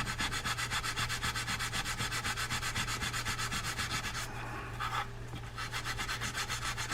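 Steel wool rubbing a part of a Mitchell Phazer 1000 spinning fishing reel, a steady rapid back-and-forth scrubbing that continues near and fairly loud, pausing briefly near the end.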